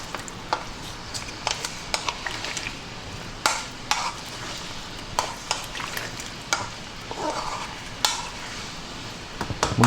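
Pork ribs tossed with light soy sauce in a wok, a bright crackling sizzle punctuated by frequent sharp metallic scrapes and clanks of the spatula as the ribs are stirred.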